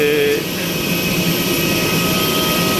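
Loud, steady jet engine roar and high whine fill the air while passengers board a plane at an airport on a Delhi to Hyderabad flight, close and continuous.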